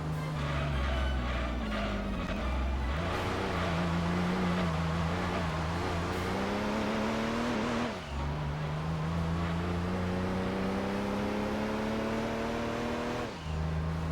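Game car engine from Gran Turismo 2 during a special event race, a loud steady drone that climbs in pitch through the gears, dropping abruptly at each upshift near eight and thirteen seconds, with no talk over it.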